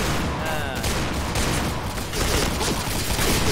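Dual Python pistols fire in the game Piercing Blow, a dense burst of close, loud shots packed tightly together and running through the whole moment without a break.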